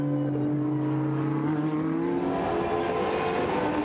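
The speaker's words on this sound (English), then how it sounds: "So there's the Ferrari going by." A Ferrari GT race car passes at Paul Ricard circuit, its engine a steady mid-distance drone that shifts in pitch as it goes by and fades, with no voices.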